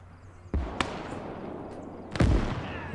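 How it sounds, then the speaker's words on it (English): A big artillery gun fires twice in the Eastern Front battle game Call to Arms: Gates of Hell. Each loud, booming blast is followed by a lingering rumble over a low battlefield background, with a sharper crack in between. "That was the big artillery piece in the corner of the field there."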